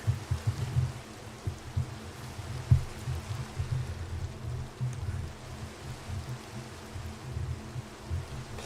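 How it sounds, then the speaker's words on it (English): Steady rain falls in the Minecraft video game, a continuous soft hiss with low rumbling patter, moderately loud and unbroken throughout. "Could the rain go away?"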